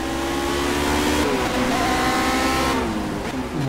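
A Lotus 49 with its Cosworth engine revving hard in Project CARS, a loud, close, continuous racing-engine wail with rising and falling pitch as it shifts gears, heard alone.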